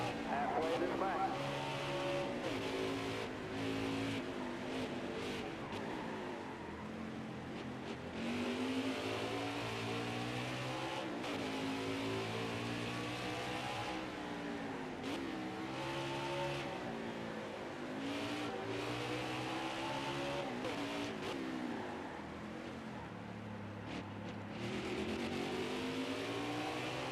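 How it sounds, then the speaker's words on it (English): NASCAR Heat 5 race car engine droning and revving up and down through gear changes, sounding rough, at Sonoma's Toyota/Save Mart 350, with a voice talking over the motor throughout. "Sounds really rough on the engine right now under this 99 car."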